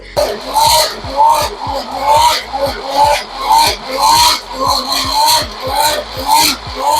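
Aloe vera gel being ground in a kitchen grinder or with a hand tool, a steady run of rough, rasping strokes repeating about twice a second at close range, with no one talking.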